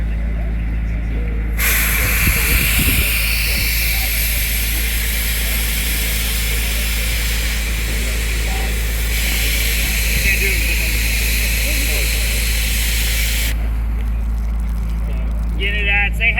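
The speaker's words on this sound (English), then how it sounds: "One of their air aspirated nozzles" An air-aspirated nozzle sprays Bio Ex F3 firefighting foam with a loud, steady hiss that starts abruptly, holds for about twelve seconds and cuts off, over a low outdoor rumble.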